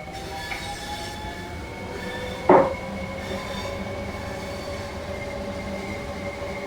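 A train rumbles along in the game Train Sim World 3 with a steady hum and faint squealing wheels, broken by one brief sharp clunk partway through, on the Dartford to Gillingham route.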